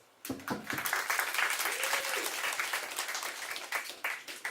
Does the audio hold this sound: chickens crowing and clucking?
no